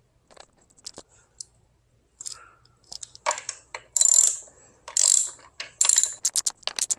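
A ratchet clicks in short close bursts while a lock nut is tightened on an electric scooter tire during a wheel installation, with metallic ratcheting and light clanks and no talking.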